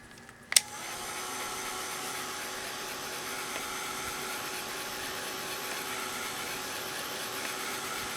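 Heat tool drying alcohol ink on a substrate: a click as it switches on, then a steady, close, whirring blower hum that holds evenly to the end.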